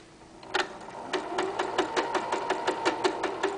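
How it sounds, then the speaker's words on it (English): Sewing machine stitching the side seam of an apron, a close, rapid, even mechanical clatter of needle strokes running steadily after a brief quiet start. "You're going to sew the 5/8 seam"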